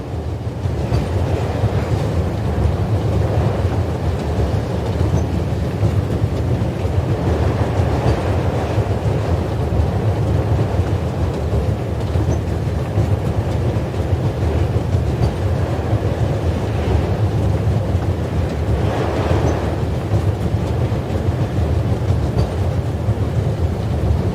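A train running steadily in the video game The Raven, with a continuous loud rumble and clickety-clack of wheels on rails and no voices over it.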